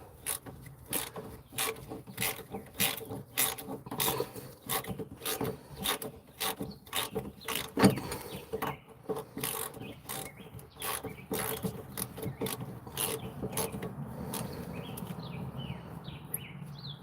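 A ratchet wrench works loose a bracket on the 1 ton axle of a 1977 Dodge Tradesman RV during leaf spring removal, giving rapid repeated clicking strokes with rasping metal sounds, close and steady with no talking.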